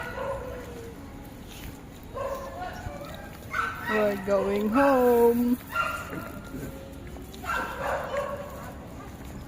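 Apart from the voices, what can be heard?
dogs barking, poodles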